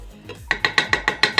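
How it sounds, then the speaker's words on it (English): A spoon stirs flour, salt and yeast together in a mixing bowl for challah dough, making about seven close, evenly spaced scraping strokes. "And I'm just going to give them a good mix."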